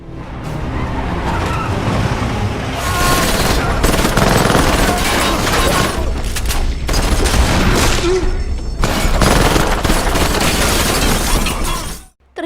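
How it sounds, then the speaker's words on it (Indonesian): Gunfire in a film shootout during a robbery chase, loud and continuous with crashing, shattering and car noise mixed in, sustained bursts filling the whole clip before an abrupt cutoff. "Terjadilah aksi baku tembak yang sangat seru"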